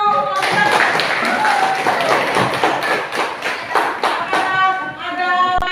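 Students in a classroom applaud a group presentation with a burst of scattered hand claps and taps, uneven and fairly close, with voices mixed in and a few sharp final claps.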